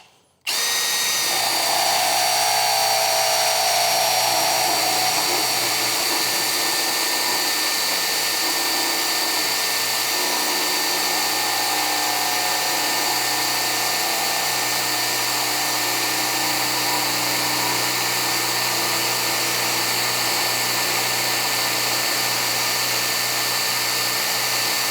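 A cordless drill in drill mode at speed 2 drives an HVAC pipe flaring tool, whirring loudly and steadily at close range, a continuous high motor whine that barely changes pitch throughout.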